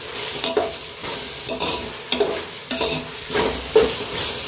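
Sliced onions fry with ground chilli paste in a pan. A constant sizzle is broken by repeated stirring scrapes about every half second, close and fairly loud, with no talking.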